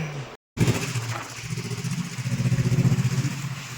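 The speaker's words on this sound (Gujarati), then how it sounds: "તો ફરી પાછા નીકળી પડેલા છે બાઇક લઈને સાંજે ફરવા માટે" A motorbike on an evening ride hums along with a steady, pulsing engine throb that drops out briefly near the start, then resumes with rhythmic revving. It is close and continuous, with no speech.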